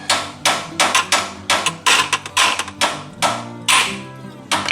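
A hammer taps on the oil filter of a 2017 Ford F250 Super Duty Power Stroke diesel during an oil change, producing about fifteen sharp, close metallic knocks in an uneven rhythm.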